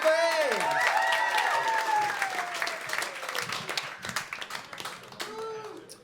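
Applause and clapping from a comedy club audience at Broadway Comedy Club, heard under a voice that talks over the start and trails off, then fades before a brief spoken phrase near the end.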